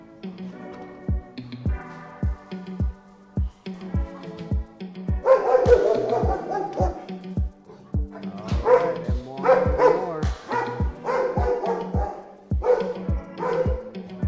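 Military working dogs bark steadily in a kennel area, several dogs yapping and barking in overlapping bursts over a regular thumping beat, loud and close with a few whimpers mixed in.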